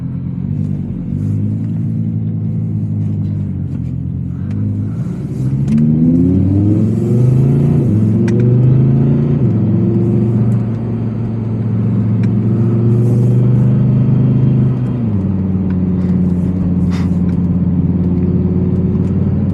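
A 2023 Audi R8 V10 Spyder with a naturally aspirated V10 and 7-speed dual-clutch automatic pulls hard, its engine note climbing in pitch then dropping with each quick gear change, loud and close.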